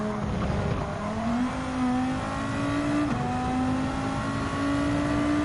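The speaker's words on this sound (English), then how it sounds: "This sound of the engine in the RS5 Turbo just actually have the good similarity to the Audi R8 LMS 2015 model." Audi RS5 Turbo in Gran Turismo 7 racing, engine holding a steady high-pitched drone with a brief dip in pitch at a gear change before climbing again, loud and continuous with no talk.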